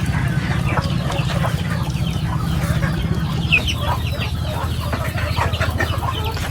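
Many chickens and chicks cluck and chatter together close by at a fishpond hut, a busy, continuous barnyard murmur with occasional louder calls.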